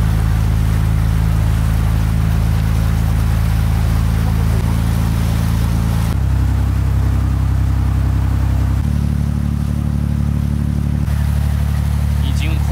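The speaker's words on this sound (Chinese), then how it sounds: "就是这样的一个小船。" A small passenger boat crossing the Seto Inland Sea toward Shodoshima, its engine a steady low drone that shifts level a few times, with water rush and faint voices underneath throughout.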